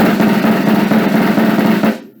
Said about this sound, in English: Now buzz those.